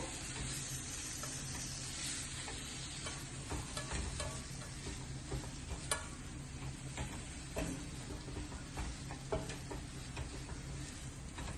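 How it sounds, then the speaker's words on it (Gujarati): A gram flour mixture with a few semolina grains sprinkled on top is stirred in a pan over a very low gas flame, giving a steady soft sizzle with faint scraping ticks throughout. "હવે આ વ્યવસ્થિત હલાવી લેવાનું છે"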